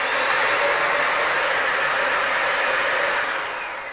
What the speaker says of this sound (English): The vacuum itself makes a decent amount of noise.